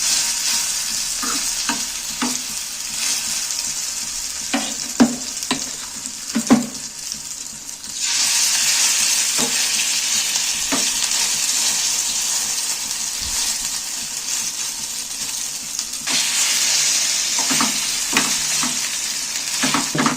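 A snack fries in a little hot oil, giving a continuous sizzle with spatters and stirring clicks. The sizzle grows louder and brighter as more pieces go in, with no talk.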